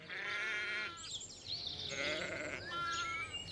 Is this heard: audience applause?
no